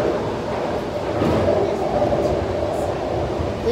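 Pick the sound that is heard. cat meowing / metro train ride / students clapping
metro train ride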